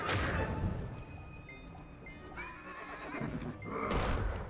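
A loud horse whinny rises and trails off during a boss fight in Black Desert, with hoof clatter and bursts of noisy rumble around it.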